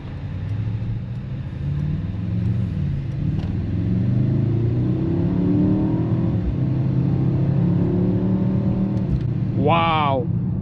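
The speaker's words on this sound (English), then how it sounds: "That is the V8 beast that you hear growling on the streets." Mercedes-AMG SUV with a V8 engine, 2025 lineup, pulls away hard on a hot city street, its exhaust growl rising into a steady loud rumble that fills the stretch, ending with a brief sharp sweep near the end.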